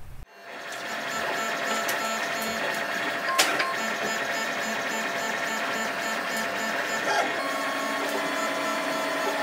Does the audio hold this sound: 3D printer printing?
yes